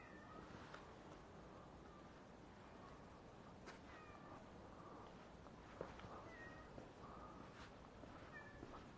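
A tomcat meows several times, faint and distant, against a dense, steady outdoor noise bed with occasional small clicks and scuffs.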